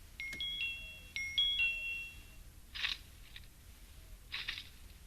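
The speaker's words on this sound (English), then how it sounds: "let's see if I can get the tip through the bars and against the doorbell button" A doorbell rings with two quick ding-dong chimes, pressed through bars, clear bright tones in succession, followed by a couple of soft rustling sounds in a quiet space.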